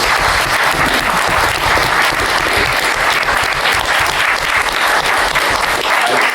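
A dense, loud round of applause fills a crowded comics convention panel room, many hands clapping at once in a continuous, even wash with no pauses.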